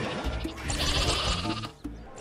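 Cartoonish sheep bleats from a mobile video game about a daring sheep's escape sound over busy game music, several wavering calls in quick succession.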